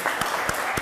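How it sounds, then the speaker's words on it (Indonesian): Classroom applause for a student group, a short burst of clapping from a small crowd, moderately near and lasting under a second. "beri tepuk tangan untuk kelompok 1"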